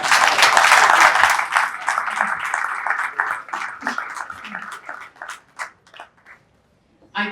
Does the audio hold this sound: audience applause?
yes